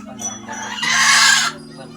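Chickens cluck in a home poultry pen, with soft close clucks and then a louder, rougher squawking burst that cuts off abruptly.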